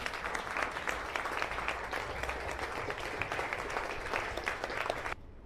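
A seminar audience stands and applauds, producing sustained, dense clapping from a large crowd that carries on evenly for several seconds before cutting off abruptly.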